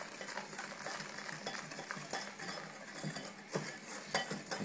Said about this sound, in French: Et tu vois, je remue tout de suite.